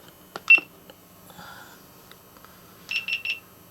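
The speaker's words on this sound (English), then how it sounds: "It beeps a couple of times and turns off." A GoPro Hero 7 action camera beeps as it turns off: a single high chirp early, a quiet pause, then three quick electronic beeps in a row, close and clear.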